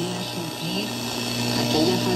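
Dense, hissing shortwave static from a 1984 GPX Model 992 boombox radio, a continuous loud noisy wash with faint warbling tones drifting through it, steady throughout.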